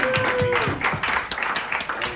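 Scattered clapping from a small audience at a poetry reading in Malibu, mixed with talk and a brief vocal tone, the claps irregular and moderately close.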